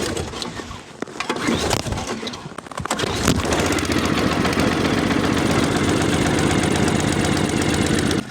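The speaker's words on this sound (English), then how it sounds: "we'll pull the rope a few times until the engine starts." A pull-rope snowblower engine starts after a few rough pulls and brief sputters, then settles into a loud, steady, close-up idle with a continuous chugging rumble.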